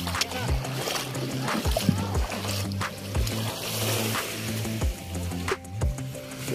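A boat motor hums steadily on the water, its low droning tone running throughout, with occasional splashes and sharp knocks.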